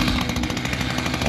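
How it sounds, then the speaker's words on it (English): A chainsaw running at steady high revs, loud and close, with a continuous buzzing roar throughout the short burst and no speech. "And now for some chainsaw action."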